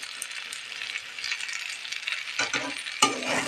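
Food frying in a pan with a little salt sizzles steadily while being stirred, with a few sharp metallic scrapes of the spoon near the end.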